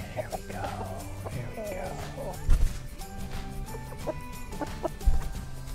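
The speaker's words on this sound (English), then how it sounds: "I'm just gonna really quickly catch this hen so she's back in" Hens cluck and squawk close by as one is caught, amid scuffling and a couple of sharp thumps, with voices talking over the commotion.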